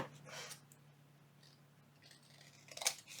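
Scissors snip through paper prints in a few short, quiet cuts, with a sharper close snip near the end over a faint steady hum.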